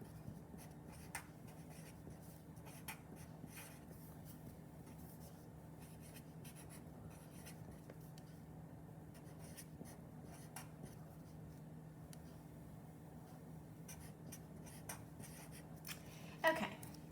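Pencil scratching faintly on paper in short intermittent strokes as cubes are written out, quiet and close with low room hum underneath.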